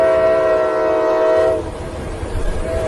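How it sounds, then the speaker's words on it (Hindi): A heavy goods train passes on a nearby railway track, opening with a loud sustained horn tone that cuts off midway, leaving a low rumbling roll of the wagons. "तभी पास के रेलवे ट्रैक से एक भारी मालगाड़ी"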